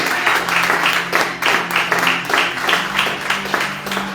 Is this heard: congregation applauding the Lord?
yes